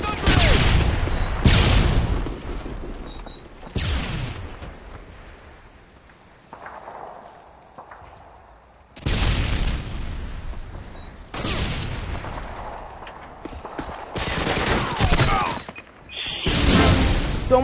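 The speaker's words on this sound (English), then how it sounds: "Tossing stun grenade!" A stun grenade detonates during a Search and Destroy match of Call of Duty: Modern Warfare 2. Several loud, sharp blasts burst out among game sounds and voices, with a quieter, muffled stretch in the middle.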